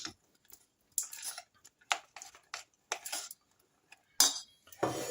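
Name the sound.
stirring walnut mixture into hot syrup with a spoon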